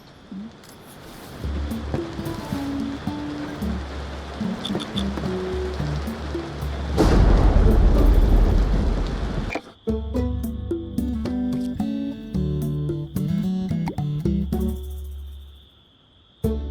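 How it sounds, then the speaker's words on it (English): Rain and thunder in the video game Tavern Keeper: a steady rainy hiss builds to a loud rumbling burst midway, then gives way to game music. "Seems we're in for a rainy night."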